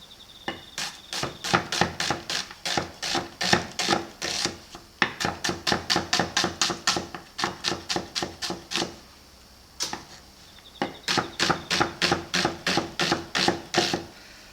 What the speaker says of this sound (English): we'll chop up onion and garlic if we have time